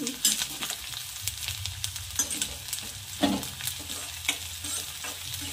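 Chopped onion and finely cut green chilies fry in a pan for a fenugreek and green pea curry, giving a steady close sizzle with scraping stir strokes and spoon clinks throughout, no voices.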